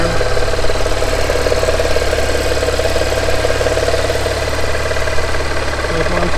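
A Mini Cooper engine idling after a valve cover repair, a steady, loud, even rumble with a faint ticking, running alone for several seconds.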